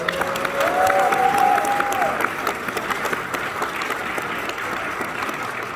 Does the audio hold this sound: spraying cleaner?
no